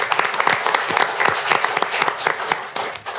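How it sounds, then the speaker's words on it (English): Audience at a college board of trustees monthly meeting breaks into a round of applause, dense steady clapping that holds for a few seconds and then begins to thin out. "College community, will you join me in a round of applause for our grand?"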